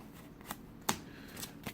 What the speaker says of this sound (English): gonna have to shuffle up this deck